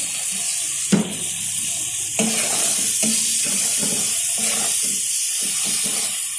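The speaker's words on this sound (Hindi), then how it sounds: "बस आपने मिर्च को अच्छी तरह से भून लेना है, लहसुन भी साथ भून जाएगा इसके" Green chillies and garlic sizzle steadily in a pan, a broad constant hiss with a few sharp clinks and scraping stirs over about six seconds, close and fairly loud, no voices.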